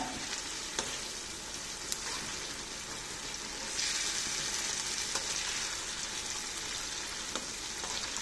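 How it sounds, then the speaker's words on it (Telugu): Red chili and tamarind pickle cooks gently in oil over a low flame, sending up a steady soft sizzle with occasional stirring scrapes and clicks throughout, close by and with no voices. "ఇప్పుడు ఈ విధంగా ఒక ఐదు నిమిషాలు ఇట్లా లో ఫ్లేమ్లో ఈ పచ్చడిని కొంచెం మగ్గనిచ్చి స్టవ్ ఆఫ్ చేసుకోండి"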